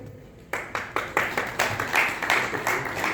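A ceremony audience claps to welcome guests. Applause starts suddenly and builds into steady, moderately close clapping with many hands, lasting about three seconds and heard alone.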